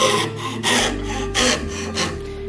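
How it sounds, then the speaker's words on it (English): A coping saw cutting wood clamped in a vise, heard as rhythmic rasping strokes, four or five back-and-forth pulls close up and loud, with no voices. "what I do need to do is start sawing again, but bringing it out backwards"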